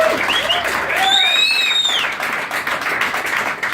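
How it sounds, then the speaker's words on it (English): Crowd applause at a birthday gathering, dense clapping with some whistles and cheers rising over it, fairly loud and close, thinning slightly toward the end. "Big round of applause"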